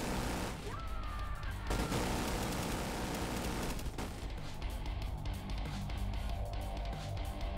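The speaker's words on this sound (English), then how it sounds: "Who's shooting?" Dense, continuous gunfire fills a firefight in the shooter game The Division 2, loud and sustained with overlapping bursts and a brief break near the middle, while a voice speaks faintly underneath.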